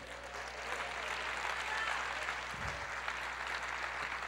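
A church congregation applauds the Lord during an Easter resurrection sermon, a soft, distant, even patter of clapping that carries on for several seconds with a low hum underneath.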